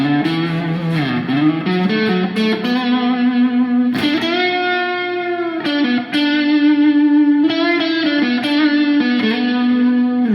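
An Enya Sonic JT carbon fiber electric guitar plays its built-in presets, sustained chords and notes through shifting effects, with distortion, chorus and echo changing the tone from phrase to phrase, loud and continuous.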